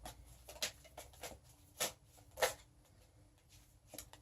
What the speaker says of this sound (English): So let's just keep shuffling, right?